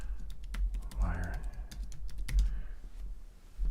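Keys clack on a computer keyboard in a steady run of quick taps, moderately close, over a low background hum, with a brief muffled bump partway through.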